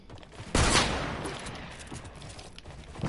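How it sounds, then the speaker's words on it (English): A single loud shotgun blast fires in a video game, a sharp broadband crack at the start followed by a decaying boom and lingering ambience, with no talk over it. "I just missed on my shotgun shot"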